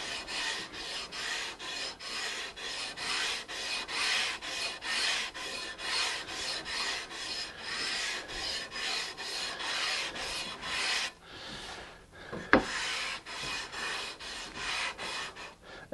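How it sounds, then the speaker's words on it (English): A guitar fretboard is sanded by hand on a replica Fender-style neck over 20 years old, a steady rhythm of close, rasping back-and-forth strokes with a short pause and a faint clack partway through. "where I'm at with sanding the fretboard."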